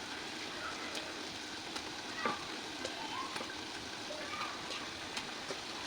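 Fish marinated in salt and turmeric sizzles in hot spiced masala in a pan, a soft continuous crackle with faint pops and scrapes, close but quiet.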